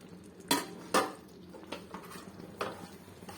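A spoon stirs eggplant curry in a pan, making a few distinct clanks and scrapes of metal against the pan over a quiet background, with no talking.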